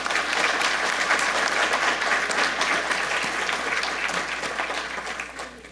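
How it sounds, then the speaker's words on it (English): An audience at a public forum gives sustained, loud applause, a dense steady wash of claps that tapers slightly near the end. "I want to give them both a round of applause and great appreciation."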